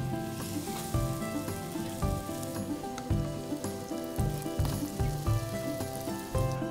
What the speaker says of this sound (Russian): остается их только пожарить на сковороде с двух сторон до золотистой корочки.